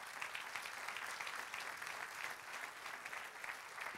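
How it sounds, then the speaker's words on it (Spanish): A church congregation claps together during a sermon, a continuous, fairly quiet wash of applause from across the room lasting a few seconds with no talk over it. "Sí, dale aplauso."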